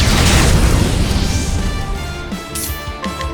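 A fire spell in Octopath Traveler II bursts with a loud, booming whoosh that swells at once and then slowly fades, with a few bright magical chimes trailing through the decay.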